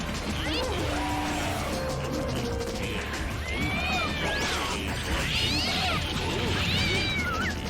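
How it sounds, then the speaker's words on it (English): A stock cartoon cat scream effect with repeated shrill, wavering meows and yowls over a busy background of fight-game noise and crashes. "Somebody found the actual stock cat sound effect that I was talking about"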